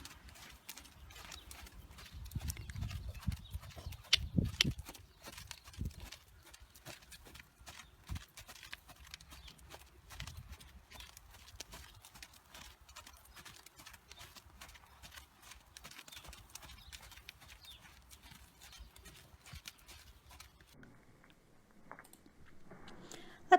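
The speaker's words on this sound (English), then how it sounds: "The trot is a 2-beat gait. It means you can hear 2 beats while the horse covers one stride" Horse hooves trotting in a steady two-beat gait, with the diagonal legs landing together, a clear repeating clip-clop that is strongest early on and continues more faintly throughout.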